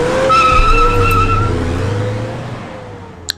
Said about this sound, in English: because the road's wet from the rain, the tires start to slip